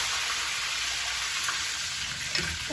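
Curry leaves hit hot oil already crackling with mustard seeds and cumin, producing a loud, continuous tempering sizzle close up, with a few faint clinks near the end.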